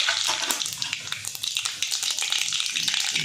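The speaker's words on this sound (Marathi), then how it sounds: "तेल चांगलं गरम झालेलं आहे आता याच्यामध्ये एक चमचा मोहरी घालून घ्यायची" Mustard seeds sizzling in hot oil for a spicy Maharashtrian matki bhaji: a dense, bright, crackling hiss with rapid popping that stays steady and close throughout.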